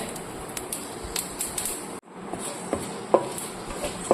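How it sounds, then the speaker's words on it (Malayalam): Mustard seeds and two dried red chillies frying in hot oil in a pan, with a soft steady sizzle, scattered light pops and a few metallic clinks of a utensil against the pan. "നമുക്ക് കടുക് വറക്കണം. ഇത് 2 വറ്റൽമുളക് കൂടിട്ട്"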